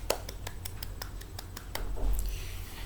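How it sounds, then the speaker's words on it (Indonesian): Children in a fifth-grade classroom clap their hands together in a quick, even rhythm of about ten crisp claps, fairly faint over a low room hum, with a brief murmur near the end. "Tepuk tangan buat kita semua."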